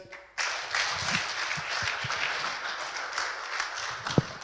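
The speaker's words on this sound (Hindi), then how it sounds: "एक बार और फिर हम ताली बजाएं।" Church congregation at a Sunday service clapping together, a sustained burst of applause starting abruptly and continuing steadily at moderate loudness.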